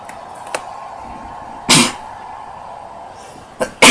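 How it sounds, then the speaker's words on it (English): A person sneezes indoors, with a few sharp, loud bursts of breath spaced apart against quiet background hum and no speech. "Okay, I had to sneeze."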